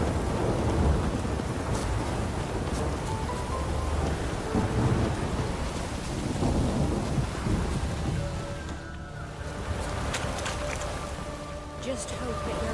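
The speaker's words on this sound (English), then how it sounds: "Rain again. Damn mages." Steady rain patters beneath rolling thunder in a video game world, a dense, continuous wash of sound that thins slightly toward the end, with a voice speaking over it.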